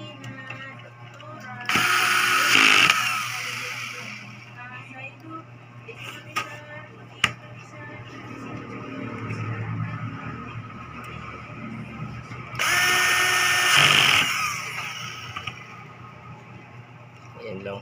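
Screws being driven in while a Dahua CCTV camera is mounted, two loud bursts of mechanical whirring and ratcheting a few seconds long, separated by quieter background noise and faint talk.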